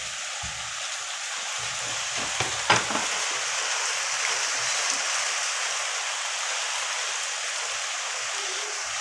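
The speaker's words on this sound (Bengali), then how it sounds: "এই দেখো বাইরে বৃষ্টি নেমে গেছে অলরেডি" Steady rain falls outside as a continuous, even hiss, with a few brief knocks early on and no voices.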